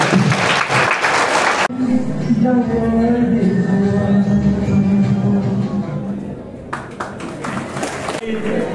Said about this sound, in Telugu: చప్పట్లు కొట్టడం కూడా ఒక ఎక్సర్సైజ్